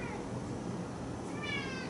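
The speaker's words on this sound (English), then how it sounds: "seems my cat, Kitty, what do you want?" Cat meowing indoors, a fairly quiet drawn-out call rising toward the end, heard alone over a soft background hiss.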